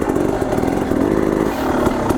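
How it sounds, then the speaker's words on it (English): Enduro motorcycle engine climbing a dirt hill with the clutch feathered, a loud, close, buzzing two-stroke-like drone holding a steady pitch with small surges. "Can you hear what my bike's doing?"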